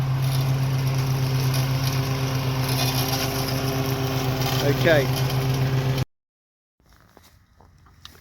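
A running lawn mower engine hums steadily, then a sharp scraping, rattling clatter of the blade striking the metal deflector plate before the motor cuts out abruptly into near silence.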